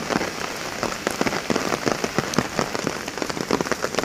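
Steady monsoon rain patters densely on a surface nearby near a flooded river, a constant crackle of drops with no voices.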